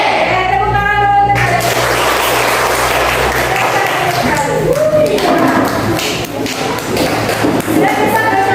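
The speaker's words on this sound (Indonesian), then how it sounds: "Tepuk tangan dulu." Children clapping their hands in a classroom during a teaching practice lesson, a dense, loud patter of many small hands with some thumps and chatter mixed in, fading slightly toward the end.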